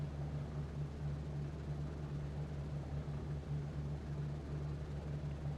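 The engines of a B-17 bomber in a flight game drone steadily with a low, even propeller hum, continuous and unchanging, with no talking.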